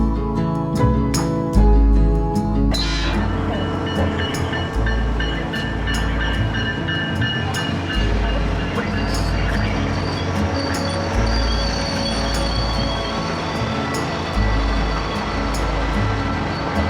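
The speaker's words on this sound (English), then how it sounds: "There's another train coming now." A train rumbles loudly nearby at a Winter Park station, its wheels squealing sharply at first, then settling into a heavy, steady roll with rhythmic clatter as it pulls in.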